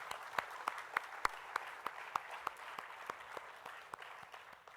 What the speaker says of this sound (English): Can we have a round of applause for the Year 13 class of 2020?